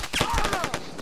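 Rapid gunfire in the military video game Arma 3, a burst of sharp shots in quick succession over roughly a second, with a faint voice in the background.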